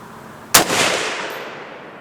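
A single sharp gunshot from a PSA PA-10 rifle in .308 Winchester cracks loudly and close, followed by a decaying echo tail over about a second and a half.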